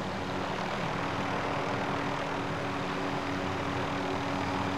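A helicopter in a multiplayer shooter game flies close by, its engine and rotor making a steady loud droning roar that stays constant throughout, with no speech.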